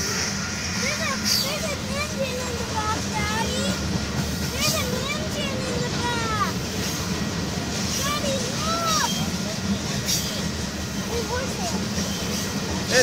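A Union Pacific freight train rolls steadily through St. Elmo, Illinois, a continuous broad rumble with rhythmic squealing, whining wheel tones rising and falling over it, close and loud throughout.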